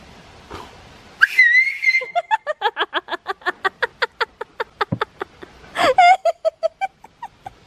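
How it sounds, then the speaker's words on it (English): A loud whistle is blown near a husky, starting with a long shrill blast, then a quick run of rhythmic short toots, then another sustained blast followed by more short bursts. "Whistle reaction."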